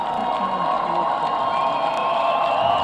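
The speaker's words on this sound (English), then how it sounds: "listen to the crowd off this carry" A football stadium crowd at the 2016 International Bowl, United States U-18 Select vs. Ontario U-18, cheers a running play with a loud, sustained roar and scattered shouts.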